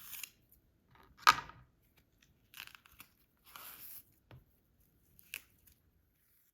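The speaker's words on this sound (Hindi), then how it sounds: "अब केलों को भी काट लेते हैं।" A knife slicing bananas for a creamy fruit chaat: a few separate soft crunchy cuts, close and fairly quiet, spaced out with pauses and no talking.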